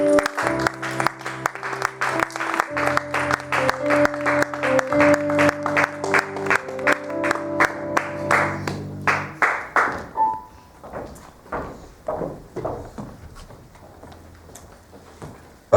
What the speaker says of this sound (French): sous nos applaudissements pour l'Éternel